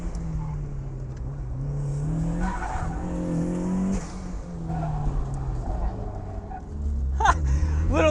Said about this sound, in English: Little lock up on brakes there, tires are still cold.